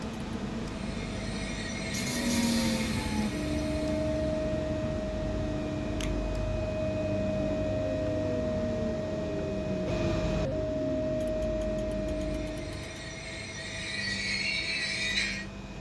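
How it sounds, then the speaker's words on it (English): A Pesa Elf electric multiple unit train running in Poland, heard as a steady, continuous rumble with sustained whining electric motor tones that slowly rise and fall, plus a few brief clicks, loud and near throughout. "So what is this unit? This EMU? The Pesa Elf train."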